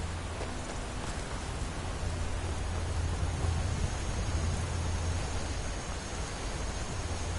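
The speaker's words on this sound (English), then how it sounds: "And it started to rain." Steady rain hiss in the video game Skyrim VR fills the scene, a constant broadband wash of falling water with a low rumble underneath, with no voices.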